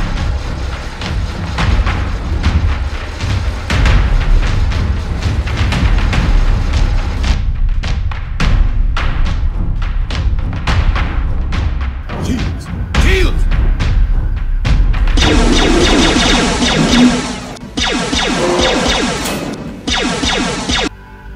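Starship batteries unleash a full-scale bombardment in a Star Wars and Star Trek space battle, with dense, loud booms and thuds pounding continuously, then sustained roaring bursts of energy fire later on, with voices mixed into the din.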